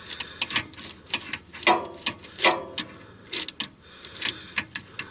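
A Sykes-Pickavant oil filter wrench working the oil filter off a Ford Ranger, bursts of metallic ratcheting clicks and scraping in short uneven spurts, close by, with no speech.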